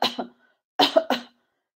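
Gentle forward coughs are demonstrated as a way to clear post-nasal drip: a soft double cough, a short pause, then a slow triple cough, close up in an otherwise quiet room.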